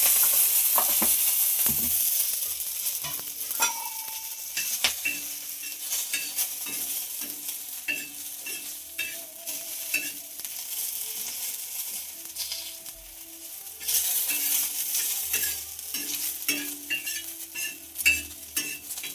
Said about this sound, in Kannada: ನಾವು ಯಾವಾಗಲೂ ಹೀಗೆ ಹುರಿತೀವಿ